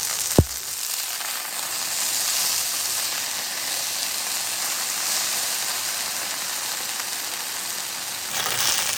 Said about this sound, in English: Flip over and fry for another 3 minutes.